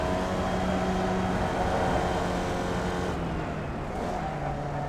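A Formula Vee race car in the iRacing simulator at Oulton Park drones at a steady engine pitch on a relaxed victory lap, a continuous close whine that eases slightly near the end.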